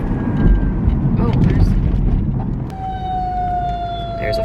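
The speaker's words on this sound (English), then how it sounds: "there's a fire truck." A fire truck siren sounds outside, a steady tonal wail that rises and holds over low rumbling room noise.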